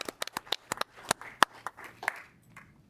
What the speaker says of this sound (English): I think that alone is a round of applause for coming to a city council meeting.